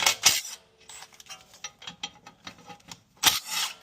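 Ratchet with a 16 mm socket loosening lower control arm bolts, delivering short bursts of quick mechanical clicking and rasping, loudest at the start and near the end, close by with no talk.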